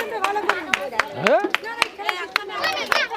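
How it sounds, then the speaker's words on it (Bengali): An audience at a women's glass game at a local event claps in a quick, steady rhythm, the sharp hand claps carrying on throughout while a voice talks over them. "হাততালি দিন সবাই হাততালি দিন"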